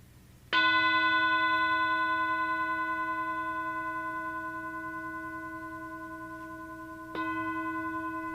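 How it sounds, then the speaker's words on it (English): A meditation bell struck at the start of a chanting session, ringing out loud and clear with a long, slowly fading resonant tone, then struck again about seven seconds later. "I'll ring the bell 3 times to get us started."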